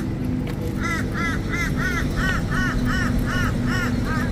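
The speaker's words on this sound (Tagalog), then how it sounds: "Maingay yung bird." Noisy crow-like birds perched up on power lines, giving a rapid series of about ten harsh caws in a regular rhythm, clear above a steady low background hum, with no talking.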